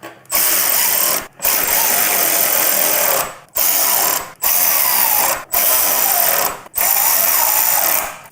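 Cordless power drill driving the tank cap bolts on a motorcycle, with an Advanblack Axion tank cap, in a star pattern; six loud, close bursts of whirring and ratcheting, each about a second long, separated by short pauses.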